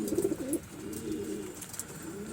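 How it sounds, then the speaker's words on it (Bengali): Pigeons in a loft coo softly while they feed, low throaty calls rolling on close by over faint background noise, with no talking. "দেখুন সব পায়রা এখন খাবার খাচ্ছে।"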